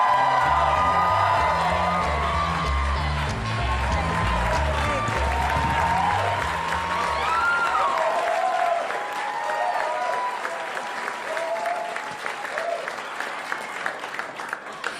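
A stand-up comedy crowd claps, cheers and whoops as comedian Zainab Johnson is brought on stage, loud and full at first while music plays beneath, then thinning into scattered applause and shouts.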